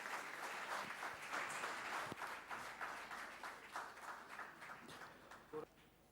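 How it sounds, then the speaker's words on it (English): A full round of applause from an audience at a volunteer hero award ceremony, steady dense clapping that thins and fades toward the end. "Round of applause for her, please, ladies and gentlemen."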